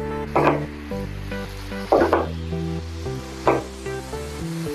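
Tomato masala cooking down in a pan for matar paneer, a low sizzle under three distinct scraping stirs spaced about a second and a half apart, alongside a steady tonal hum, with no voices.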